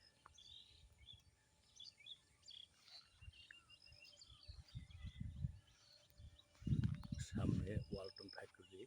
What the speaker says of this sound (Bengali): পাখির কোলাহল